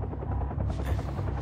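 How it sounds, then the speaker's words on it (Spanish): A helicopter in a Quantum Break cutscene thumps with continuous, rapid rotor chopping, loud and close, with a steady rumbling drone underneath and no speech. "Entonces, ellos tienen un helicóptero."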